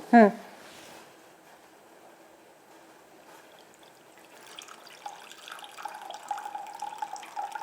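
Water pours and splashes as kodo millet is rinsed in a bowl, a steady close trickle that builds toward the end, following a brief voice at the start.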